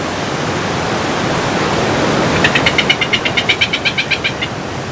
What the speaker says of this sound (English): Tobago on its east coast has clear water and crashing waves.